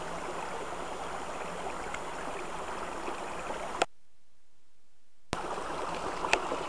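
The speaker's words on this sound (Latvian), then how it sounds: "Ieklausies upes, sadzirdi tās dziesmu un dziedi tai līdzi." A river stream flowing steadily outdoors, a continuous broadband rush of water heard alone, broken by a brief cut to silence before resuming.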